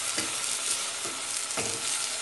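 Chopped onions sauté in hot oil with a teaspoon of salt, a loud steady sizzle broken by a few soft stirring scrapes in the pan, with no talking.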